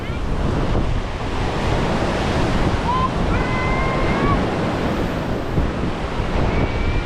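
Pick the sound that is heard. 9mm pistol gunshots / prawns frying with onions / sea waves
sea waves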